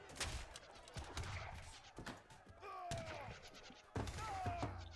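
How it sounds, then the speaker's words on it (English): Heavy cannons firing in Age of Empires III, a scattering of sharp booming shots and thuds at uneven intervals amid busy battle sounds, quiet overall. "Heavy cannons come in."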